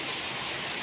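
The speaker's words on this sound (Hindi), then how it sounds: "देखो कितनी तेज़ बारिश हो रही है" Heavy rain pours steadily outdoors, a dense continuous hiss of falling water with no breaks, heard alone.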